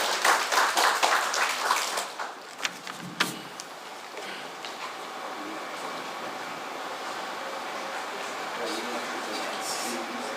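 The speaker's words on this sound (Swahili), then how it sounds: "Tumpigie makofi." Audience applause at a hospital accident and emergency unit opening ceremony, a burst of clapping over the first few seconds that fades into steady crowd and room noise.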